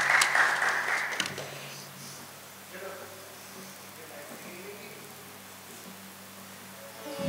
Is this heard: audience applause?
yes